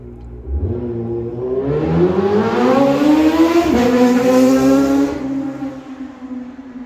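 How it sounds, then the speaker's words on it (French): Sunday motorcyclists ride past on a road: loud engine tones climb in pitch as the bikes approach, then drop sharply as they pass close by and fade away. "c'est les motards de dimanche"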